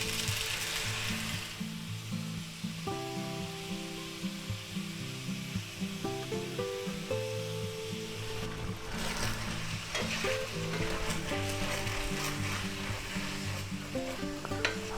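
Garlic shrimp and vegetables stir-fry in soy sauce, sizzling steadily with repeated scraping and clattering of a utensil against the pan, close and continuous throughout, no talking.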